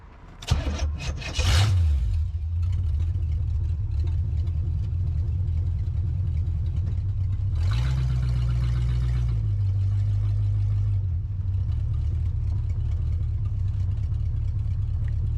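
A 1980 Chevrolet Camaro with a carburetor and a transmission stuck in first and reverse, on its first drive in a decade: the engine catches with a rough burst, then idles and drives steadily with a rev swell midway, loud and close.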